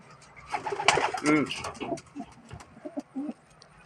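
A racing pigeon coos in a series of soft, close rolling calls with irregular pauses, heard against faint background rustling in a loft.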